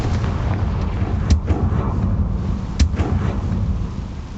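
Confringo fire spell going off in the Hogwarts Legacy video game, two sharp booming blasts over a dense rumbling roar, loud and close with no voices.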